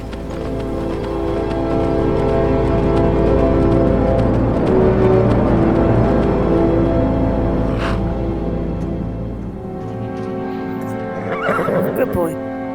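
A horse whinnies loudly over galloping hooves in Skyrim VR, then the hoofbeats slow to a clip-clop and fade, with game-like effects near the end.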